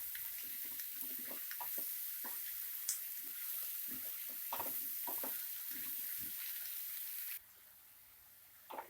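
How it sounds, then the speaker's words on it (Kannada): Mushrooms fry on a high flame in a pan, producing a steady, dense sizzle close up with occasional stirring scrapes, and the sizzle drops sharply in level near the end. "ಹೈ ಫ್ಲೇಮಲ್ಲೇ 5 ನಿಮಿಷ ಫ್ರೈ ಮಾಡ್ಕೊಳ್ಳಿ ಮಶ್ರೂಮ್ನ"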